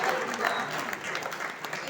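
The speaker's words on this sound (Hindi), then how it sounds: "एक बार जोरदार तालियां बजाकर पंकज श्रीवास्तव" An audience at a Hindi poetry gathering applauds to welcome the poet Pankaj Shrivastava, a dense, steady wash of many hands clapping with voices mixed in.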